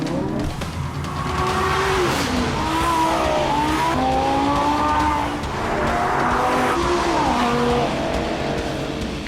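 A Lamborghini Gallardo LP 570-4 Superleggera with a 5.2-litre V10, driven hard on a test track, howls loudly and continuously as it accelerates, its pitch climbing and dropping through gear changes, with tyre squeal mixed in.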